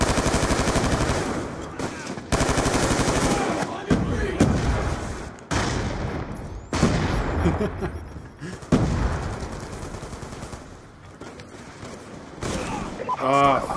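Heavy gunfire in a shooting video game, with dense bursts of automatic fire, sharp sniper cracks and booming impacts, loud and close, while players talk excitedly over the battle.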